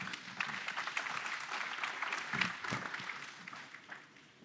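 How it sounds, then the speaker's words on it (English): An audience at a brewery-business panel talk claps for the panelists, a dense, even patter of applause that runs for several seconds before gradually thinning out. "So big round of applause for these guys."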